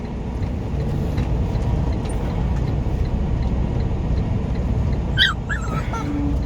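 Maximus, a dog in a truck cab, gives a few short whimpers and yips near the end over a constant low idling drone of the truck.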